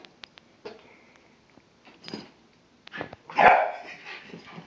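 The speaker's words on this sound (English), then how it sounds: "Oh, an actual bark." A dog gives a few scattered short barks and yips against a quiet room, building to one louder, fuller bark near the end.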